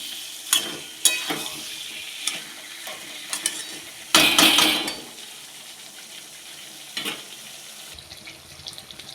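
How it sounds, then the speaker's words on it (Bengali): Mutton and potatoes being sautéed in a pot, with bursts of sizzling and scraping from a stirring spoon at irregular intervals and one louder, longer stir in the middle. "এবার মাংসটা কিছুক্ষণ এটা কষা হোক।"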